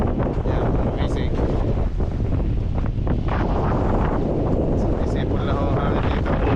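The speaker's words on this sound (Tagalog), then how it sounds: "Bugbog yung hangin, yung tinga natin sa hangin, eh." Strong wind roars steadily across the mic at sea ahead of a typhoon, a loud continuous buffeting rush with surf-like noise, and people talk faintly under it.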